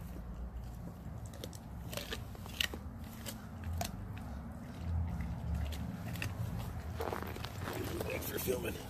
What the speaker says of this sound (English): A frozen shrimp he was chewing on.